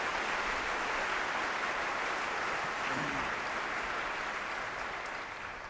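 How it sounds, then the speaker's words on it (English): Steady, dense applause from a morning audience honoring school board members at a district address, filling the whole stretch at an even, sustained level without voices on top. "Let's give them a round of applause this morning"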